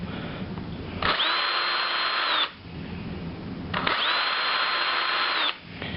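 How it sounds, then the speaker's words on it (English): A power drill whines in two steady bursts of about a second and a half each, close and loud, with a short pause between, drilling a hole in a sheath. "you just want to drill that hole out real quick"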